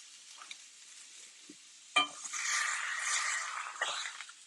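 A frozen ribeye steak sizzles in a lightly oiled pan after a sharp contact sound, the frying hiss steady and close for a few seconds.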